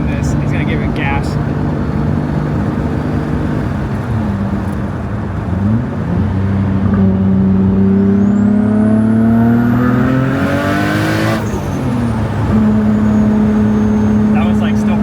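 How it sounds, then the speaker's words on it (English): Turbocharged Nissan R32 GTR making over 600 hp revs hard, its engine note rising and falling in long sweeps with turbo whistle and a sharp blow-off whoosh between pulls. It is loud and close, with no voices over it. "That sound it makes is insane, right? The turbos, the blow off."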